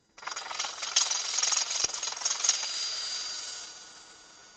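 Abrasive rubs against a turned wooden bowl spinning on a lathe, a bright, steady hiss that starts suddenly, holds with a couple of small knocks, then fades as the paper lifts away.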